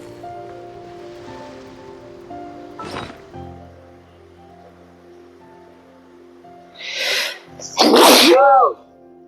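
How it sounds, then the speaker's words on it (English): A person sneezes loudly and close, with a smaller sneeze or sharp breath first and a big explosive sneeze near the end, over quiet background music from a Genshin Impact game. "sneezed, and my screen is full of mucus"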